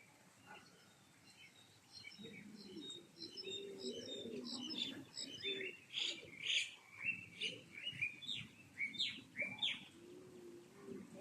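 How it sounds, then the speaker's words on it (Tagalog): Birds chirp and coo repeatedly at moderate distance during a rainy thunderstorm day, a steady run of short calls with a low cooing undertone beneath them. "Pag humuni na yung mga ibon na ganyan"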